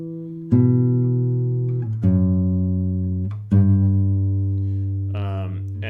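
A guitar's bass voice is plucked with the thumb, giving three warm low notes, each sustaining and decaying in turn, close and clear, with a few brief higher touches near the end.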